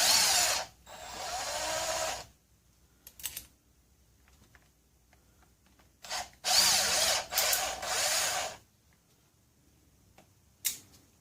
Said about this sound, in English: I think we'll take the other two screws off the gearbox here